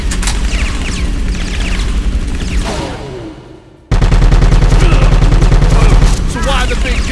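A big gun fires in Bad Boys: Miami Takedown, a heavy burst of loud gunfire, a short lull, then a sustained rapid volley of booming shots, with voices and game sounds around it.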